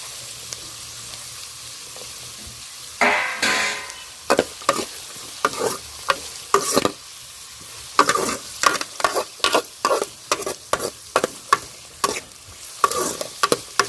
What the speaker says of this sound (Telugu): ఇవన్నీ అయితే కొంచెం సేపు నూనెలో వేగని